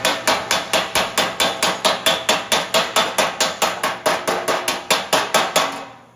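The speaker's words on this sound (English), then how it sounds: "hammer and dolly that, and you can see it's bringing it out just a little bit at a time" A hammer and dolly tap steadily on a welded metal seam, with about two dozen evenly spaced, ringing metallic strikes close up. Each strike decays briefly, and the last one fades out.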